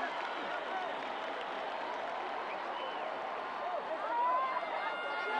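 Crowd applause fills a volleyball medal ceremony arena in Brasília, a steady, dense wash of clapping and cheering from many spectators that swells slightly near the end.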